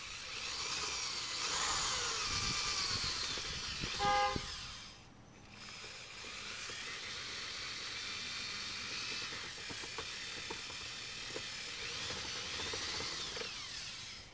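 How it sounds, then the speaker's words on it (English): A power drill whines steadily at close range for the whole stretch, dipping briefly once before running on again as it bores through material. "Just drill, get the drill bit and slide it over to your side."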